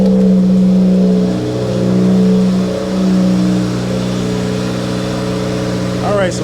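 A car engine runs steadily after being started during an oil pressure check on a car with a suspected oil pressure gauge problem, a constant close mechanical hum with small swells throughout.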